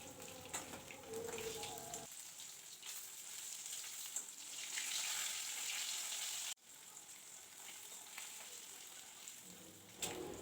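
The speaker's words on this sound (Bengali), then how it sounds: "বাকি কিছু মাছ আছে সেগুলোও আমি এভাবে ভাজা করে নেব" Rohu fish pieces frying in oil give a soft, continuous sizzle. It is fairly faint and steady, broken by a brief clatter near the start, a sharp cut partway through and a small knock at the end.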